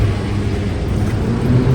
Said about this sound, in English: if I press that, the truck should rev up and the packer should go back up to the top